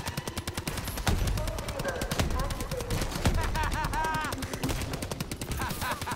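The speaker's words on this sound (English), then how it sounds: "These turrets just destroying them." Automated turret gunfire in the video game Call of Duty Exo Zombies, dense rapid bursts of machine-gun shots that continue throughout and stay loud, with voices talking over them.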